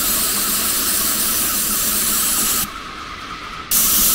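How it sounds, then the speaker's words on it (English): A paint sprayer blasts leftover water into a bucket while cleaning out after mural work, a loud steady hissing spray that briefly drops quieter partway through before surging back to full force. "So I'm gonna do it all in my water bucket and just spray it until I see the blue."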